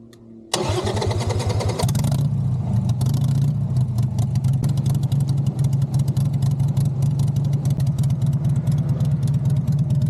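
Harley-Davidson motorcycle engine cranking over and firing up after a dead battery, then settling into a loud, close, lumpy idle with a rapid, uneven potato-like pulse that continues steadily.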